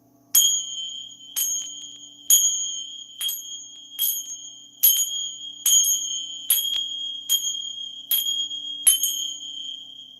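Sacred chimes used in a spiritual cleansing ritual, struck about once per second in a steady rhythm, each bright, sustained ringing tone fading before the next strike, heard close and alone over a faint low hum.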